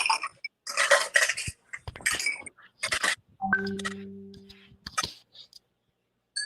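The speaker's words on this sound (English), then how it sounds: "You add your ice." Ice cubes clatter into a glass while a rum punch cocktail is built, a few sharp clinks and rattles in short bursts with faint clicks between and a brief hum partway through.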